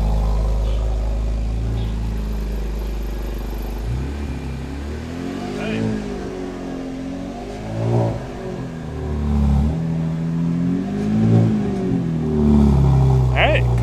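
A 2017 Camaro RS with welded J pipes in its exhaust starts up and idles in a low rumble, then revs in several rising and falling bursts close by, with someone speaking briefly over it.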